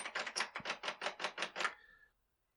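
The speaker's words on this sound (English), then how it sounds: "Now let's get to typing." Typewriter keys are struck in a quick, even run of about nine close, crisp clacks, followed by a brief ringing tone as the typing stops.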